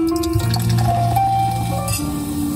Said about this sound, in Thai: น้ำแข็งลงแก้วเสียงแชมเปญ